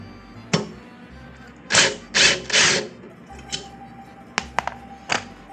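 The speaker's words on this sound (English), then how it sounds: "Start off removing the heat shield with the Torx 25 bit." A Torx 25 bit unscrews the heat shield screw on a 2024 Triumph Tiger 900 Rally Pro, with a few short whirring bursts from a power driver and some small clicks and taps nearby, close and with no talking.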